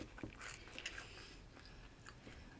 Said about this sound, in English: I'm eating a mushroom, but it's not a mushroom. It's bread. Crunchy bread.